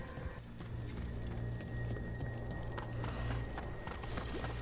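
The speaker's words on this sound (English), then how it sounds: "it's a horse" A horse in the video game Dragon Age: The Veilguard clip-clops along with light, rapid hoof taps over a steady low game soundtrack hum, moderately quiet and with no voices.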